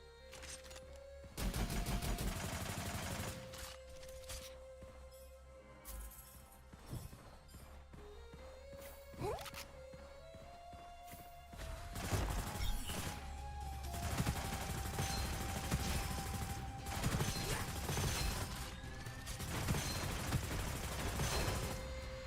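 Rapid gunfire from a weapon in the shooter GunFire Reborn, bursts of sharp shots in irregular runs, some long and dense, with game music tones and effects around them.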